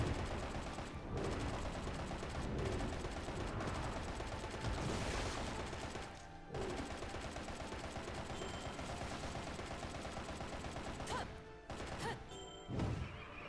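Rapid gunfire from Bayonetta's pistols in the Bayonetta video game, dense bursts of shots with crashes and impacts running almost nonstop, loud and close, with short breaks.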